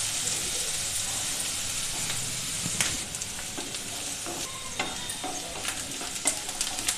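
Chopped onions fry in a hot pan until brown while an Odia baigana bharta (eggplant dish) is cooked. A steady close sizzle runs throughout, with occasional scraping and clicking stirring sounds and no talking.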